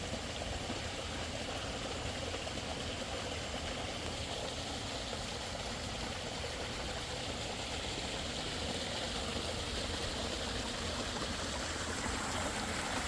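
Steady close rush of water falling through a Bakki shower filter on a koi pond, an unbroken trickling hiss lasting throughout with no talk.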